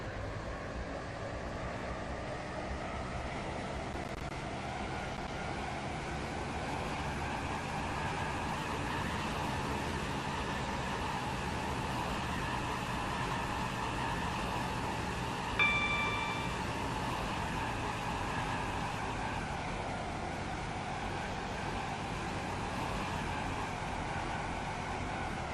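Steady rumble of a Waterline service train riding toward Greenslade in the Roblox game Stepford County Railway, a continuous even drone of wheels and motor with no talk, one brief faint chime midway.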